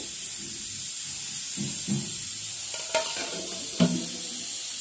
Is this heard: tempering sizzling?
yes